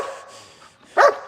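A single short puppy bark on command during obedience training, one sharp burst near the end after quiet.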